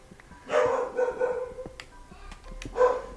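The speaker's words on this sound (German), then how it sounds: "Oh, wir haben sogar bellende Hunde hier im Spiel." Dogs in the Minecraft video game on Xbox 360 bark in a few short, moderately loud yaps spread irregularly over a few seconds, with faint game background between.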